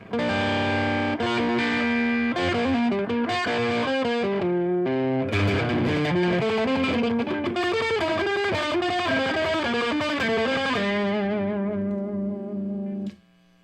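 Heavily distorted electric guitar with P90 pickups through a Fender Champion 40 amplifier, playing chords and riffs with a buzzy, gritty tone, loud and steady, ending on a sustained ringing chord.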